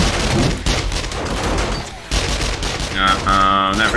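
Rapid video-game gunfire rattles in a dense, loud burst that runs almost continuously, briefly thinning before resuming, with a clipped electronic tone near the end.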